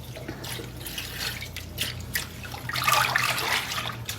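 Acid-dyed yarn is dumped into a basin of rinse water, making soft splashing and trickling with scattered drips. The wash of sound grows fuller and brighter toward the end, close by and moderately quiet.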